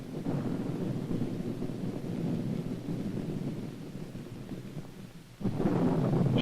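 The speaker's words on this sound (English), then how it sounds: "Thunder." Thunder rumbles during a nighttime storm, a low, rolling roar that fades gradually before a fresh loud rumble bursts in near the end.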